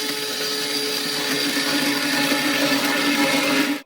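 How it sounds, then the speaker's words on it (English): An electric blender whirs steadily and loudly as it purees cooked tur dal into a thick liquid, holding a constant pitch for a few seconds before stopping abruptly. "Blend cooked tur dal with blender to make thick juice."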